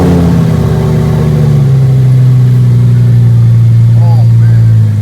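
A Lamborghini sports car engine idling loud and close, with a rising rev at the start that settles into a steady low rumble; people talk over it.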